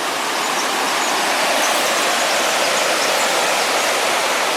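Creek water flows near the old Gaston Mine in a steady, dense rushing wash, constant and fairly loud from start to finish with no other sounds.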